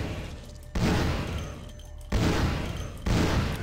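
Gunfire in the video game Vampire: The Masquerade – Bloodlines: three loud, close booming bursts arrive about a second apart, each hitting hard and decaying into a rumbling tail, with no talking.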